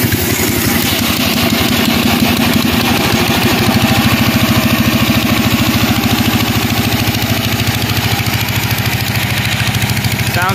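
An 18 hp lawnmower engine fitted with a header on a go-kart cranks over and catches, then settles into a loud, steady, rapid-firing idle that runs on alone without talk.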